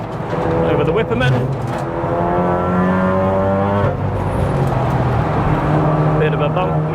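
A 500+ BHP big-turbo MK7 Golf R track car engine pulls hard through the gears on a Nurburgring lap, a loud, close in-car drone with rising harmonic sweeps that drops as it shifts, then builds again.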